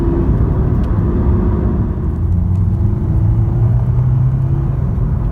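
A 2016 Honda Civic Si engine pulls hard in fourth gear, a loud, steady interior drone and rumble whose pitch rises gradually as the car accelerates, with no talk over it.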